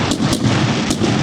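Fireworks explode at a celebration, three sharp loud bangs over a dense rumbling crackle, fairly close.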